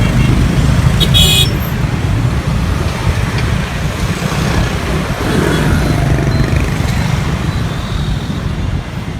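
Dense rush-hour traffic on a main street by the Saigon River in Ho Chi Minh City, a constant loud roar of motorbikes and cars with scattered horn toots, one sharp honk early on, and no talking.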